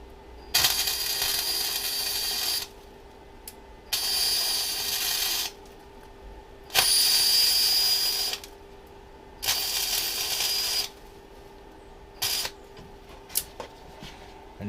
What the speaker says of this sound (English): So yeah, just weld around the seam like this.